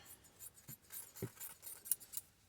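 Quiet, close scissors snipping through a vintage fabric scrap in a few crisp, irregular cuts against a near-silent room.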